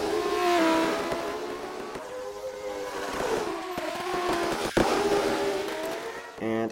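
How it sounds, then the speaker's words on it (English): Dodge Viper race cars in the racing simulator rFactor, high-pitched F1-like engine whine rising and falling through gear changes and revving, one brief sharp transient midway, close and loud, with a voice talking over the engines. "It all sounds like F1 cars."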